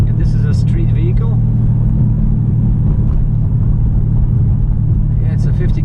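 Dodge Challenger R/T Scat Pack 392 street car with a loud, steady low engine rumble heard from inside the cabin, the note holding fairly constant throughout.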